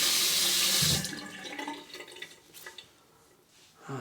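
Tap water runs loudly into a sink for a rinse during a wet shave with a Schick Type M razor, then cuts off into softer splashes and drips.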